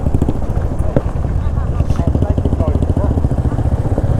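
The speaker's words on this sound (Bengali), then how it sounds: "Enfield bike" Royal Enfield motorcycle riding up and down a steep mountain road on a Ladakh ride, its engine thumping steadily and loudly close by with a continuous pulsing rumble throughout, and a voice talking over it.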